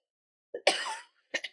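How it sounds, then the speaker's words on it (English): A few short, sharp coughs close by: one harsh burst followed by a quick pair after a brief pause. "I'm gonna cough."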